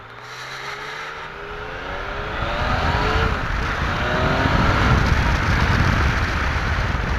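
A 2015 Yamaha MT-09 Tracer motorcycle engine revs up with a rising, steady drone that grows louder over several seconds, mixed with broadband road or wind rush.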